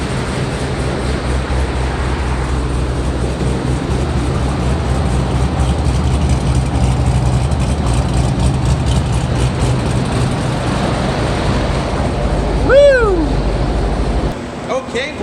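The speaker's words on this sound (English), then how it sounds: "That way we get the car idling properly from cold to warm, and then we'll begin dyno tuning." A Corvette C5 Z06 V8 idles on a dyno in a steady, loud, even drone that holds throughout, with a brief rising-and-falling whine near the end.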